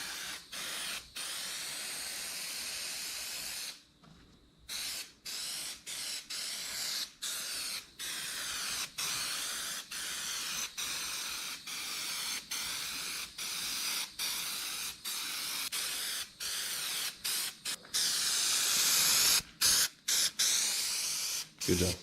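White paint is sprayed for a second coat on a BMW 325xi, heard as a steady, close hiss broken by many short gaps and one longer pause, with a brief louder burst near the end.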